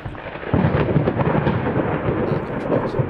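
A thunderstorm in the horror game Layers of Fear: a loud, continuous rumble of thunder with dense rain noise fills the scene from the first half-second onward, steady and close with no voices.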